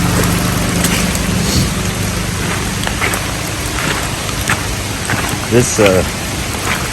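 Heavy hurricane rain pours down steadily near a mountain creek, making a loud, dense, unbroken hiss with a few scattered splashes and knocks throughout.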